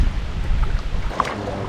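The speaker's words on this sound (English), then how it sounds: "Getting a little windy and gray, like a storm's blowing in." Wind gusting across a river on a kayak camping trip as gray storm weather moves in, a steady low rumble of buffeting air with a faint brief knock near the end and no talking.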